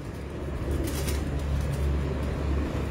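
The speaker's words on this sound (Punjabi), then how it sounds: "ਇਹ ਲਾਲ ਪਰੀ ਕਬੂਤਰ ਨੇ ਉਸਤਾਦ ਮਲਿਕ ਮੁਬੱਸ਼ਰ ਸਾਹਿਬ" A Lal Pari pigeon coos in a loft, soft low repeated cooing over a steady rumble of background noise and distant traffic, with no voices.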